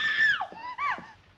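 A woman's high, sliding scream in two bursts, the first longer and rising then falling, the second shorter, close and loud with no talk.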